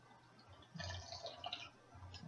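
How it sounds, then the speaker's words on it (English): Evaporated milk poured from an opened can into a mixture, a steady liquid gurgle and splash lasting about a second and a half, moderately quiet with no talking. "you're actually going to pour the whole can of milk in."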